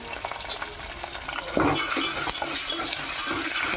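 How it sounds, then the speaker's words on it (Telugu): Turmeric frying in a pan, giving a continuous moderate sizzle with a sharp stir or scrape about halfway through, close and alone. "పచ్చి వాసన పోయేదాకా ఫ్రై చేసుకుందాం"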